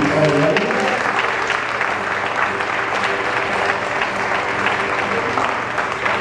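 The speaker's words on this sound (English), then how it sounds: "Let's have another round of applause for" A crowd at a Hawaiian gathering for the group Waipuna breaks into a full round of clapping, loud and continuous throughout, with a brief voice mixed in near the start.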